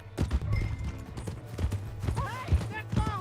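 Horse hooves clip-clop in Red Dead Redemption 2, a quick run of near, uneven thuds with a horse snort or whinny breaking through; a voice and other game sounds mix over the top.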